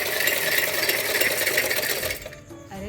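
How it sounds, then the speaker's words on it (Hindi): A sewing machine runs at speed with a dense, rapid mechanical clatter for about two seconds, then stops abruptly, leaving a few faint knocks afterward. "आज अम्मी ने मशीन लगाई हुई है, सिलाई मशीन।"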